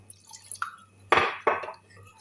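Water poured onto fava beans to make a batter gives a few short splashes and drips, with two clearer pours close by in a quiet kitchen and nobody talking.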